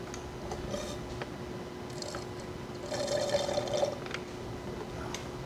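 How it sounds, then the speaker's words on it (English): Water rinsing through a fluid suction tool used for power steering fluid on a 1986 Porsche 944 Turbo: a quiet, steady liquid trickle and pour, swelling briefly into a fuller gurgle midway before settling back, with no talking. "rinse it with water so it stays nice and clean inside"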